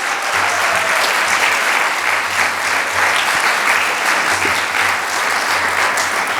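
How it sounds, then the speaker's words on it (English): A seated audience at a fashion business forum gives a sustained round of applause, dense and even clapping that stays loud and steady from start to finish with no talk over it. "I would like to ask for a round of applause for Cat Schuller."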